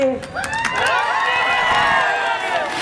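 Applause and cheering from the crowd at a political rally in Jamkhed fill the clip, a dense mass of clapping and shouts that stays loud and steady throughout.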